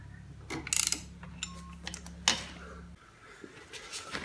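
A Super8 150 scooter's variator nut is tightened with a hand tool while a variator holding tool braces it, giving a few sharp metallic ratchet clicks, faint and close, over a low hum that cuts out near the end.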